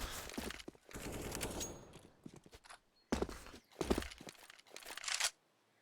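Gunfire in a Counter-Strike video game match: rapid bursts of shots and clattering impacts come in uneven clusters separated by short quiet gaps, with lighter footstep-like taps between them.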